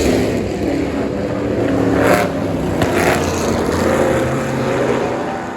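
A Tojeiro Buick race car with a rear-mounted Buick V8 roars past at the Goodwood Revival, a loud, rough engine growl that swells and fades with surrounding track noise.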